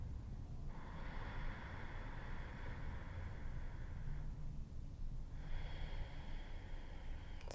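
Slow yoga breathing in and out through the nose, two long soft airy breaths separated by a short pause, close and quiet, with faint low background rumble.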